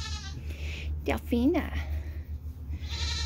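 A goat gives one clear, close wavering bleat over a steady low hum, with a person speaking briefly before it.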